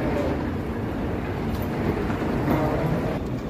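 A metro train heading to Athens airport rumbles along with a steady low roar and a faint rattle, fairly close and continuous, with no voices.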